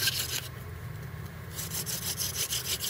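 A wooden hand drill spins against a wooden board to make fire, giving a steady, close, rhythmic rubbing and grinding friction sound that continues for the whole stretch with no talking.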